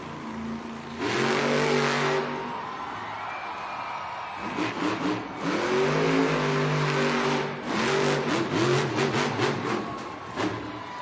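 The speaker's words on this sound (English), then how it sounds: "The black and green wrecking machine, Kristen Anderson, Gravedigger." Grave Digger monster truck revving hard in an indoor arena at Monster Jam in Baltimore, loud roaring engine bursts rising and falling in repeated waves, with a crowd faintly audible beneath.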